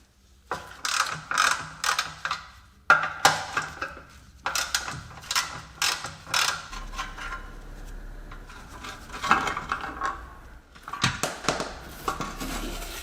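Ratchet wrench clicking repeatedly while undoing two 10 mm hex bolts on the parking brake actuator of a Jaguar S-Type during rear subframe removal, in close, rhythmic bursts with short pauses between.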